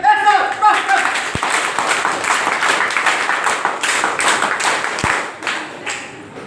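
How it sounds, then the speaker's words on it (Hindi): A group claps loudly in a hall after a school group's performance, dense overlapping hand claps filling the clip with some voices mixed in. "देखते हैं कैसी ताली बजती है। जोरदार ताली।"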